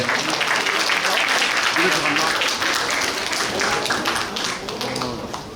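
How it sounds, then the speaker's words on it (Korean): Crowd at a youth forum in Suncheon giving warm applause to welcome a performance, dense, loud, continuous clapping filling the room, with voices mixed in underneath. "뜨거운 박수 부탁드리겠습니다."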